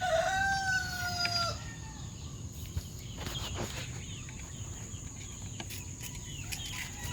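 A Pure Gilmore gamefowl rooster crows loudly and nearby in the opening seconds, then hens cluck softly and intermittently against steady farmyard background noise.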